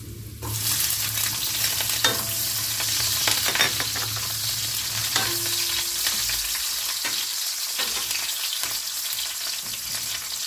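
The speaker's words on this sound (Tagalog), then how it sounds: "Isunod po natin ang ating sibuyas." Onion sautéing in hot oil in a pan, a close, continuous crackling sizzle with occasional scrapes and taps from a stirring spoon.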